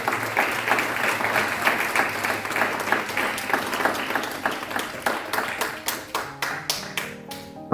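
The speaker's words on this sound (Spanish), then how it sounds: "Démosle un aplauso al camino" A church congregation claps together, at first a thick mass of applause that gradually thins into fewer, sharper individual claps spaced out toward the end, with faint tonal sounds beneath.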